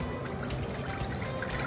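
Water is poured into a pan, set to be boiled for pasta, making a steady, close, continuous splashing pour with no talk.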